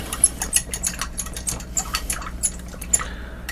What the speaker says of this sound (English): As you can hear the water swish around a little bit.